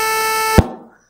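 Nintendo NES pulse channel at 25% duty cycle playing an A4, a steady buzzy synthetic square-wave tone with rich harmonics held for about half a second before cutting off with a click.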